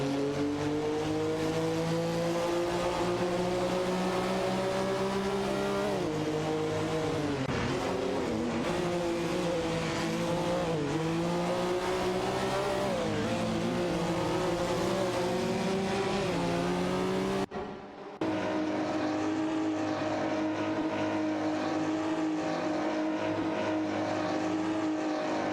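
Race cars scream around the track in an AI-driven racing video game, engines droning and shifting pitch continuously as several cars run close together, with a brief cut near the end.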